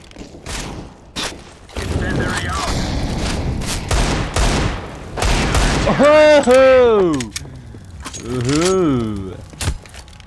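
Rapid AK rifle fire in a video game, a steady loud fusillade of shots through most of the stretch, mixed with a voice shouting over the shooting.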